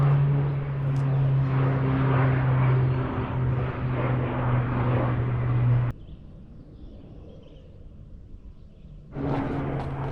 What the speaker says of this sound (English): Got our own little private performance of a airplane flying around up here.